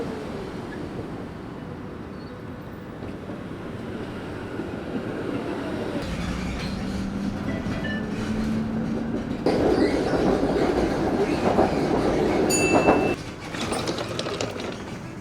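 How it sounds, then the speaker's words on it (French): A tram passes through a forest on the edge of Brussels, rumbling steadily closer with clattering wheels and a rising whine, swelling loudest near the end with brief squeals, no voices. "on va faire des photos du tram qui passe dans la forêt"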